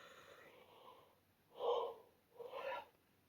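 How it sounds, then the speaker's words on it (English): A person recovering from cancer treatment yawns, producing breathy gasping exhalations: a faint airy breath, then two louder drawn-out yawning sighs close to the microphone, with no words spoken. "I'm sorry for the yawning."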